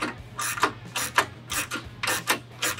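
Repeated ratcheting clicks from a 1/2 inch socket with an extension tightening a bolt on the top door hinge of a Polaris RZR Pro R, rhythmic and close with a low hum underneath.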